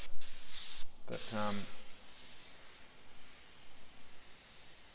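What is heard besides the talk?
Sagola XTECH 500 airbrush spraying paint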